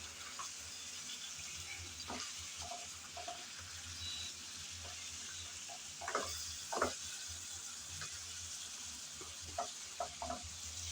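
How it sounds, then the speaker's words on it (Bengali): Bitter gourd and teasel gourd being stir-fried in a pan, giving a steady low sizzle with scattered scraping and stirring clicks from a spatula, fairly quiet and close, with no talking. "ভালোভাবে করলা কাঁকরোল কষিয়ে নিলাম"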